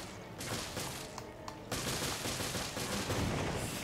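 Sustained rapid gunfire rattles on as enemies are shot at in Resident Evil Revelations, a dense, fairly quiet barrage that thickens after a brief thinner stretch.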